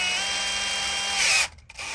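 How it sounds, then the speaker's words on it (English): A power drill runs steadily at high speed in forward, driving a fastener into sheet metal wall panels, then cuts off abruptly and briefly revs again, close and loud with no talking. "when you put the drill in forward"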